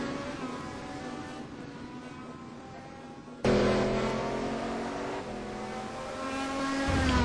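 Race cars lap Donington Park in an ETC Black Cup round, a sustained engine roar that jumps abruptly louder midway, as if the view switched to a closer car. Droning and revving continue to the end.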